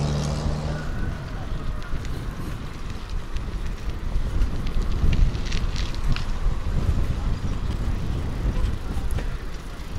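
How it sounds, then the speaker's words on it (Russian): Strong wind buffeting the microphone in a continuous low roar and rumble, with gusty swells throughout and no clear voices. "Ветер, конечно, все равно очень сильный."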